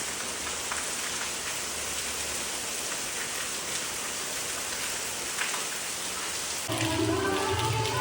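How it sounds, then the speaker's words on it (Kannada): Heavy rain pours at a temple, a dense, steady hiss of drops drumming on surfaces that stays loud and close throughout and swells slightly near the end, with no voices. "ನೋಡಿ ಎಷ್ಟು ಚೆನ್ನ ಮಳೆ."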